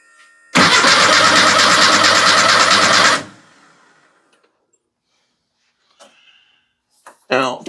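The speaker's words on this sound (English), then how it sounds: "We're going to see if this guy will crank over." A vehicle being readied for a mudding trip cranks over loudly and steadily for about two and a half seconds, then stops. Faint clicks and a brief burst of handling noise follow.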